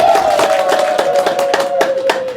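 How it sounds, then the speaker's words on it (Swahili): A church congregation claps rapidly and loudly, with a sustained high ululating trill running over the clapping throughout. "Pige makofi na vigelegele kwa Mungu."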